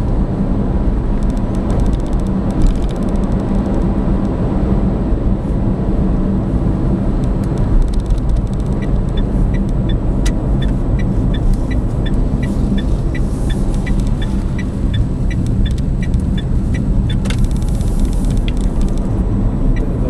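A Citroen C-Zero electric car driving along an A road at around 50 mph, with loud, steady road and wind noise filling the cabin throughout and no speech.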